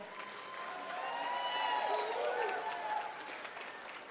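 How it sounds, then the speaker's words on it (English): A crowd claps at a mayoral victory speech, a dense, steady wash of applause that swells in the middle and eases slightly, with voices and cheers mixed faintly into the noise. "let's give a round of applause to everyone who stepped up"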